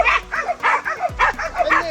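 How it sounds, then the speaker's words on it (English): A pack of dogs attacking a wild boar in a forest, with repeated loud, close barks and yips in a quick, uneven rhythm and a whimper among them. "A pack of dogs chased down a wild boar in the forest."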